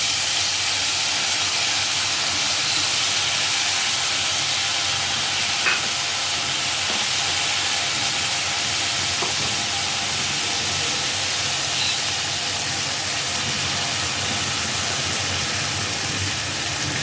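Spice mix of Kashmiri red chilli powder and ginger fries in hot oil for a fig curry (dumur dalna), making a steady, moderately loud sizzling hiss throughout with a few soft stirring sounds.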